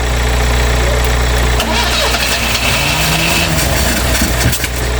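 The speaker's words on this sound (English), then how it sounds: "bit of a backfire" A Vauxhall Magnum car, left standing for 37 years, cranks with a loud low starter churn, then its engine catches and stumbles into a rough, uneven run with a sharp pop near the end.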